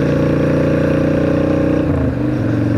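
Steady, loud drone of a Honda Shadow 600 motorcycle engine while riding, holding an even rumble before a slight drop in pitch near the end as if easing off the throttle.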